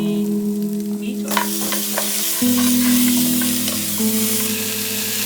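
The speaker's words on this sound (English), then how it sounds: "Fry 2-3 minutes." Meat frying in a pan for momo soup, a bright continuous sizzle with occasional stirring scrapes and spatula clinks, a steady hum running underneath, no talking.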